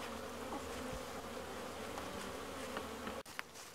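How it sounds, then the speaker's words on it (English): Honeybees buzzing around the outside of a healthy hive in a February apiary at a hobby farm, a steady dense drone of many insects close by, with no voices. "seeing the activity of these bees on the outside of this hive this February"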